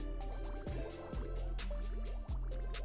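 Liquid moves through pipes in the colony game Oxygen Not Included, with repeated soft drips and gurgling plops at an irregular pace over a constant low hum.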